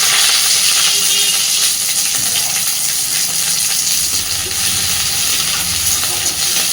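Black cumin, chopped onion and green chilli tossed into hot oil for tempering, giving a loud, steady sizzle and hiss that runs unbroken throughout.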